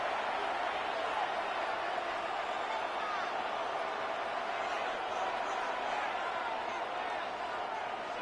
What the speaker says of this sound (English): The Buffalo crowd being heard before 3rd down.